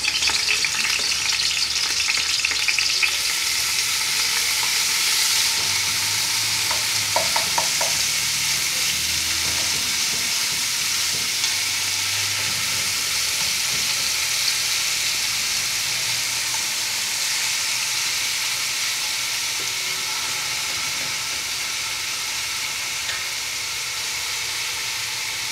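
Chicken breast pieces browning in a little hot oil in a pan, a loud, steady crackling sizzle that runs continuously with faint stirring clatter near the start.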